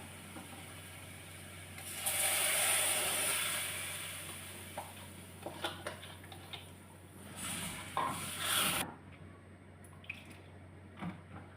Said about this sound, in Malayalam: ഇതിലേക്ക് ഞാൻ ഈ എടുത്ത് വെച്ചിരിക്കുന്ന മോര് ഒഴിച്ചു കൊടുക്കുകയാണ്